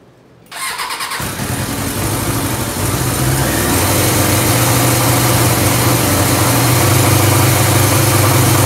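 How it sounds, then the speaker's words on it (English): A cheap 600-dollar superbike motorcycle with its choke on starts up after a brief quiet moment, then settles into a loud, steady, rough idle with a rising, throbbing engine drone close by. "I'm gonna put the choke on and see how it runs though."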